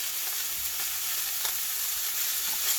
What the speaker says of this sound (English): Breakfast sausages do cook fairly fast, being that they are as small as they are